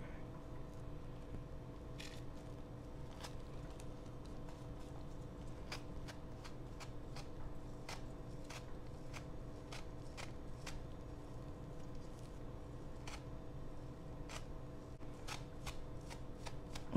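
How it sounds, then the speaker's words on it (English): Cellophane carefully peeled off a decoupage seashell craft, heard as faint, sparse crinkly crackles and ticks scattered over a quiet, steady background hum, close by with no talking. "Take the cellophane off carefully and go down."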